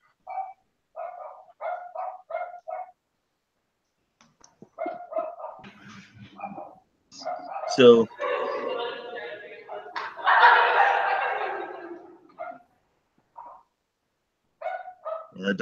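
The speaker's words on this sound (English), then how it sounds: "that dog's going nuts" A dog barks excitedly in bursts of quick, sharp yaps that sometimes blur into whining, with a person speaking briefly among the barks.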